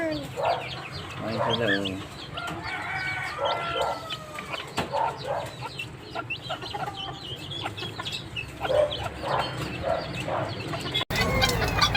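A bantam hen clucking in a series of short, close calls among other fowl, with someone talking intermittently over the birds.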